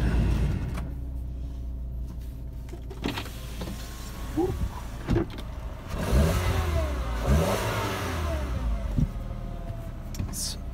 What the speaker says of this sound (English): Volkswagen's ancient 2-liter 4-cylinder, but it runs as smooth as silk.